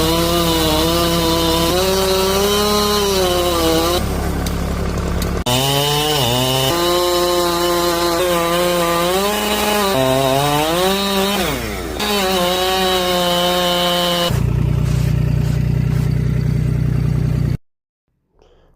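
Chainsaw biting steadily into a thick 120-year-old beech trunk, engine loud and close with pitch rising and dipping as the cut loads and frees, running nearly the whole time before cutting off abruptly at the end.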